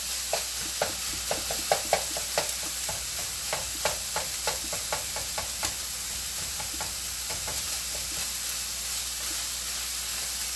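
Bacon sizzling and frying in a pan, with a steady hiss and a run of sharp crackles and pops, dense at first and thinning out after about six seconds. Close and fairly loud, with no talk.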